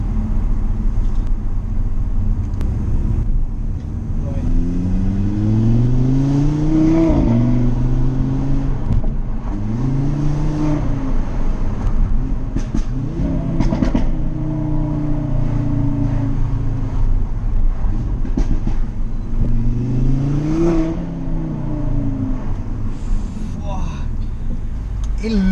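Audi RS3 8V with stage 2 upgrades accelerating hard, a loud engine climbing through repeated gear pulls with rising tones, heard from inside the car while a person talks over it.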